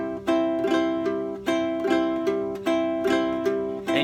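A low-G ukulele plays a repeating pattern: a down strum followed by a thumb pluck and a three-finger pluck, several cycles with ringing, overlapping notes, close and clear with no talking.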